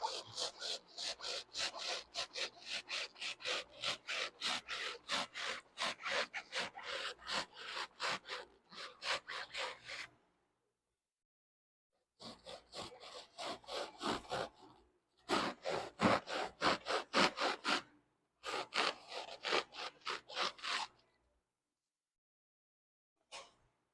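Rapid rhythmic rasping strokes as a car buck is cut and sanded, a scratchy sawing rub that runs in bursts of steady back-and-forth strokes, separated by several silent pauses, fairly close and with no talk.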